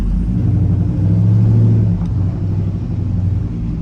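A truck drives up a road after repairs to a clunk in its steering, its engine a steady, close, loud rumble that swells and eases slightly, with no talking.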